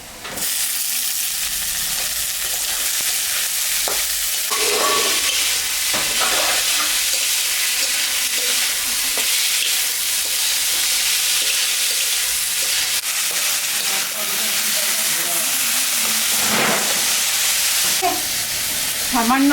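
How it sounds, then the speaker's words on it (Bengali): Radish greens fry with a fish head in a hot pan, a loud, continuous sizzle and hiss close by. Occasional stirring scrapes and soft clatters run through it. "এখন আমি শাকটা দিয়ে দিব।"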